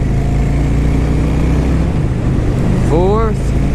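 An engine with five gears pulls steadily at road speed near 55 mph, a loud, continuous drone with a brief shift in pitch midway and a short rising whine near the end.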